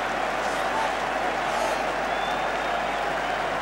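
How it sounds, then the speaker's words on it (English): A rugby stadium crowd stands and applauds after a try by England against Wales in 1990, producing steady, dense clapping and cheering that fills the whole stretch like a continuous roar. "A double celebration as the crowd stand and applaud."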